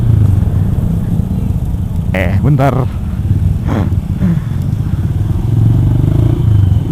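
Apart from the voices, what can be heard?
motorcycle with standard exhaust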